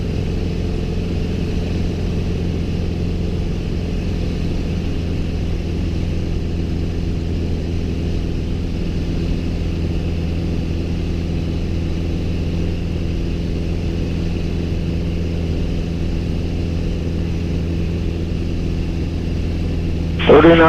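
A small airplane taxis at a mountaintop airport, its engine humming steadily at low idle throughout, close and continuous, with a brief louder burst at the very end.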